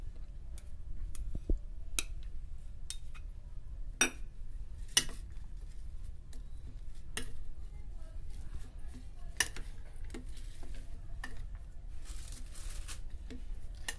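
Maggi noodles being stirred with carrots and chaat masala in a metal bowl, with scattered light clinks and scrapes of a spoon against the dish over a quiet background hum.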